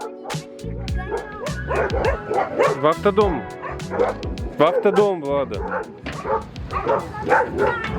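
Dogs bark and yip repeatedly throughout, close and loud, with some whimpering mixed in, while a woman calls out over them near a motorhome.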